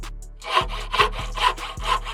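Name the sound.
saw cutting bars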